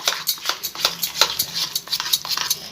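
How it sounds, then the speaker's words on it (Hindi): A spoon beats semolina (rava) medu vada batter with added water in a bowl: quick, rhythmic scraping and slapping strokes, close and clear, with no talk. "और अच्छी तरीके से हम इसे फेंट लेंगे।"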